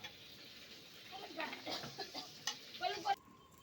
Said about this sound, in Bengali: শুকনা মরিচ সম্বার দিয়ে দিলাম।